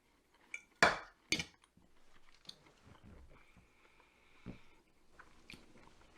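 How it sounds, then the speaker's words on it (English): A crunchy, double-fried shrimp burrito with coleslaw and a cornmeal crust is bitten twice in quick, close, crisp crunches, followed by quieter chewing and a faint clink of tableware. "Nice and crunchy from that fry."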